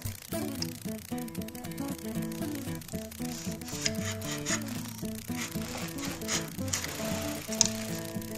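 A router plane cuts a wood shaving across a groove in a woodshop. Close ratcheting scrapes and rhythmic rubbing strokes repeat steadily with brief pauses, with no talking.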